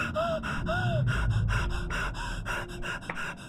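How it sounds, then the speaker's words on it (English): Rapid, heavy panting and gasping from an astronaut character in the video game ADR1FT, loud and close, with sharp breaths repeating in a quick, uneven rhythm and no talking. "stop breathing so fast"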